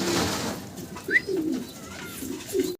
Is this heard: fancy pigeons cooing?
yes